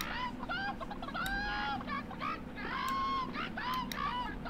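Chicken clucking in the horror video game Hand Simulator Horror, a run of rising clucks and squawks that repeat throughout, close and fairly loud, with game noise murmuring beneath.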